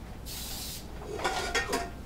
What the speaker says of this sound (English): put more cooking spray